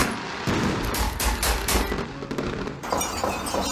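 Celebratory gunfire in Houston, heard as dense rapid cracks and pops in bursts like firecrackers or automatic fire, loud and continuous across the stretch, from a played news report.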